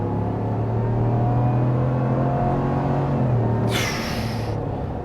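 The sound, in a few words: 2024 Ram 1500 Rebel pickup truck accelerating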